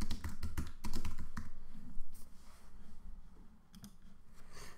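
Close, loud typing on a computer keyboard entering a page title, a quick irregular run of key taps with some heavier thumps.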